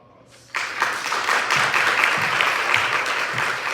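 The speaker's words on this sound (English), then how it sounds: "So let us welcome you with a big round of applause." An audience at a special lecture applauds to welcome the speaker. After a brief quiet moment, dense clapping starts abruptly and carries on, loud and steady, to the end, with no one talking over it.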